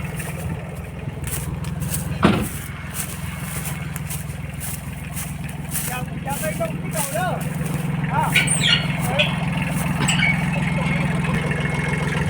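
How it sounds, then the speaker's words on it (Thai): A Kubota L1802DT tractor's heavy engine idles and revs steadily up close as it drives onto an Isuzu NKR truck, with a sharp clank early on and people talking over the rumble. "รถไถขึ้นนะครับ"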